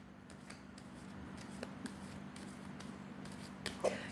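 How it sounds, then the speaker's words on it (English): Cards being shuffled, a run of soft riffling bursts and flicks repeating at a steady pace, close and fairly quiet over a low hum. "So one more shuffle."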